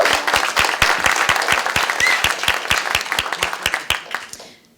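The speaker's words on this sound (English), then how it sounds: "If we could please give him a round of applause." An audience at a corporate veterans recognition event breaks into a round of applause, a dense, steady wash of many clapping hands that carries on strongly for several seconds before fading out at the end.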